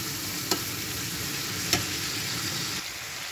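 Fried shrimp added to softened tomatoes in a pan sizzle steadily, with two sharp utensil clacks against the pan standing out over the constant frying hiss.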